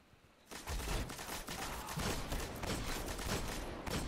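Sustained dense gunfire from a Destiny Control match on Earth's Rusted Lands map, a continuous loud rattle of rapid shots starting abruptly after a brief quiet lead-in and running steadily to the end without pauses.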